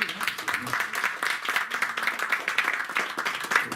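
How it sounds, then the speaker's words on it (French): A small audience at an event on racism and genocide in Mons gives a short burst of steady, moderately close applause with rapid overlapping claps and some faint voices. "Et qu'on vous applaudisse aussi."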